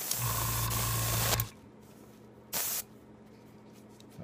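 A loud steady hiss of airbrush spraying with an air compressor humming underneath, then quieter hum, another short spray burst, and the compressor droning on.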